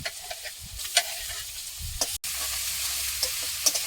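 Garlic frying in oil with onion, black cumin and bay leaves, a low hiss of sizzling with light spatula taps and scrapes as it is stirred in the pan, briefly cut off midway.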